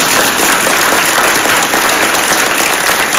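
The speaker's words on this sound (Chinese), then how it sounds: "这边应该要有掌声嘛" A lecture audience gives a few seconds of loud, continuous applause, a thick even wash of clapping with no gaps.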